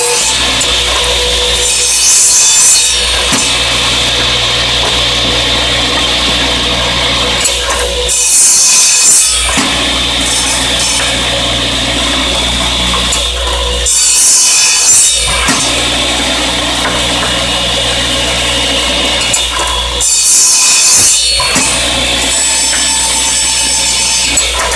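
A radial arm saw cuts through a wooden post in loud, close passes that repeat about every six seconds, with a steady motor whine between cuts and no talking.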